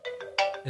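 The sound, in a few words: phone alarm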